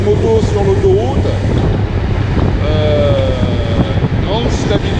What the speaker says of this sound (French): Petit aperçu de la moto sur l'autoroute